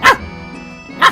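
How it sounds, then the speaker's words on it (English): A voiced dog bark for an RPG Maker video game: two short, loud barks a second apart, separated by a quiet hum, with no talk. "the bark needed voicing, and he barked a lot"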